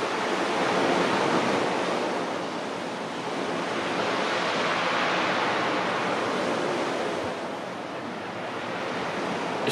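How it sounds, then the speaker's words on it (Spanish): Heavy wind and rolling sea waves off a fish farm where a sailboat lies capsized, a loud continuous roar that swells and eases gently, with buffeting wind noise and no talking. "Hay mucho viento."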